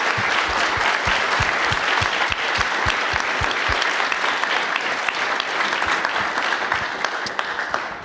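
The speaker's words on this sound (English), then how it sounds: "Let's give a round of applause for both our debaters here." A university debate audience at Penn State applauds the two debaters, a sustained, full round of clapping from a large crowd filling the room at moderate loudness.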